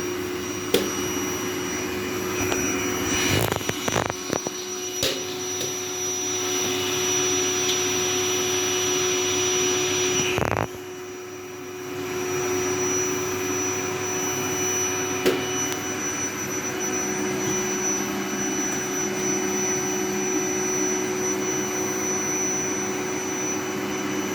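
Household vacuum cleaner running steadily and loudly up close while a child vacuums, with a couple of sharp knocks, a brief dip in the motor drone near the middle, then the continuous roar resuming.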